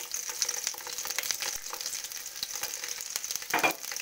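Garlic fries in hot oil with a bright, crackling sizzle up close, broken by intermittent stirring scrapes and one brief louder clatter near the end.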